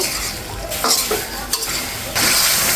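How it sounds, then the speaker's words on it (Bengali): Broiler chicken marinated in yogurt sizzles in a pan while a spatula scrapes and stirs it, with clinking strokes against the metal and a louder surge of frying near the end. "এখন এটা খুব সুন্দর করে আস্তে আস্তে করে কষিয়ে নিতে হবে।"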